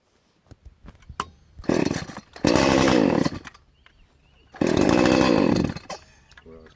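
An Oregon PowerSharp sharpener grinds a chainsaw chain as the saw revs in two loud bursts, each lasting about a second or more, separated by quieter idling and small clicks.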